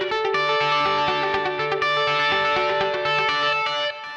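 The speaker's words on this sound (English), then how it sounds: "And then I have this mod chorus echo" Electric guitar played through a Line 6 HX Effects unit using a legacy mod chorus echo, ringing chords and single notes with shimmering modulation and echo tails, loud and steady throughout with no talk.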